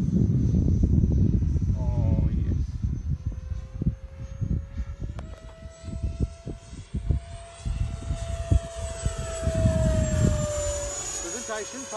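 An E-flite Havoc RC jet flies at a model flying field, its ducted-fan whine rising and sweeping in pitch as it passes overhead. People talk over the engine noise, with wind buffeting the microphone.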